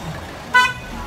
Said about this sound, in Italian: c'è un po' di traffico